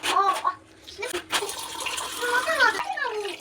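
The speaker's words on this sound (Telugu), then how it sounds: "so water కలుపుకుంటున్నామండి" Water gushes and splashes as it is poured into a cooking pot for bagara rice, while a person talks over the pouring.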